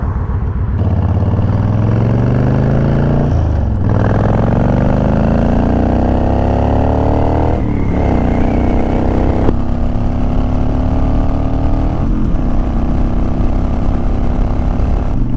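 A Honda Fury motorcycle engine runs loud and close, idling and then revving in several rising sweeps that each drop back to a throbbing idle.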